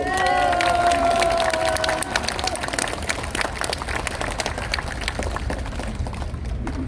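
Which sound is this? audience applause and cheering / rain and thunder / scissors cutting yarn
audience applause and cheering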